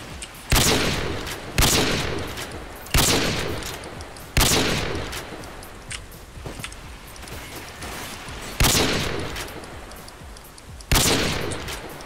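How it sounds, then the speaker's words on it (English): An M16 fires single semi-automatic shots in a Call of Duty match, about eight loud, sharp reports spaced a second or two apart, each with a booming tail. "This gun is not automatic. What, the M16?"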